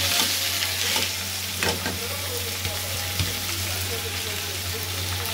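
Chicken with vegetables fries in a pan while being stirred, giving a soft steady sizzle broken by intermittent scraping and clinking strokes, fairly quiet and close with no talking.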